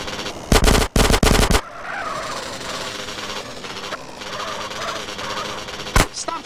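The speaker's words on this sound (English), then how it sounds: "Stop shooting that thing right next to my ear." Automatic gunfire in the modded video game Grand Theft Auto: San Andreas: a loud, rapid burst of shots early on, then a single sharp shot near the end over a quieter game background.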